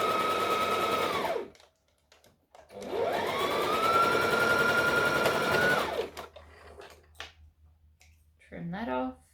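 A sewing machine back stitches fabric for a dress in two sustained runs, the motor whining steadily and slowing at each stop, with a brief pause between runs, then a short voice at the end.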